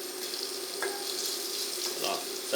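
Onion frying in hot oil gives a faint, steady sizzle with scattered small bubbling crackles, close by and quiet.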